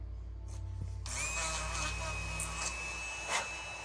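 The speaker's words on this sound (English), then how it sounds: "All I did was drill the holes at the top" A power drill spins up with a rising whine and grinds steadily for a few seconds drilling holes in resin earrings, against a low background hum.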